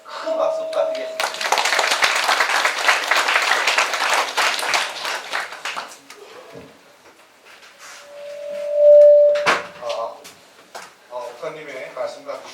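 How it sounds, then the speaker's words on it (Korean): Church fellowship-night audience claps for the two event hosts, a lively burst of applause lasting several seconds before fading, followed by tones and a voice speaking. "두 사람 잘 사회 봐달라고 큰 박수 부탁드리겠습니다."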